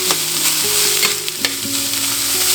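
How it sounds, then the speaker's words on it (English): Cabbage sautéing in a pan gives a constant close sizzle with some soft scraping stirs, alongside a faint steady background hum. "the cabbage is starting to make noise."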